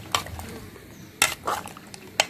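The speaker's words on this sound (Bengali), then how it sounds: "এখন আমি আমার সকল উপকরণ ভালোভাবে বেগুন আলুর সাথে মিশিয়ে নিব।" Spices being mixed by hand or spoon into cut eggplant and potato in a bowl, a few soft clinks and scraping bursts at irregular intervals over quiet background, close by.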